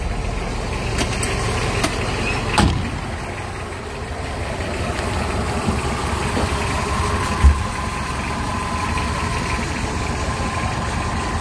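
A 2011 Mitsubishi L300 pickup engine idles steadily, a low continuous rumble close by, with a couple of faint clicks and no talking.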